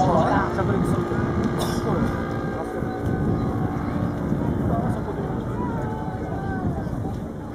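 A large radio-controlled model airplane with a 5.5 m wingspan flies at a display event, its engine a steady droning buzz with shifting pitch, while people talk nearby.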